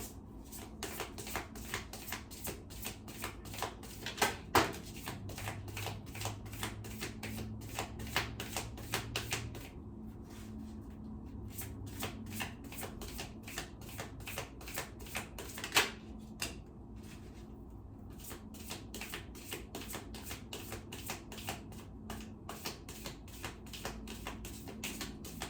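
Tarot cards being shuffled by hand, a long run of quick crisp riffling and tapping bursts close up, with brief pauses between rounds and no talking.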